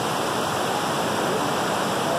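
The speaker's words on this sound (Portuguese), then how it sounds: "estamos aqui na cachoeira de Iracema." The Iracema waterfall pours a large volume of water, a constant dense rushing roar that stays steady and close without any other sounds.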